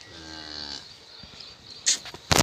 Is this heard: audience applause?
no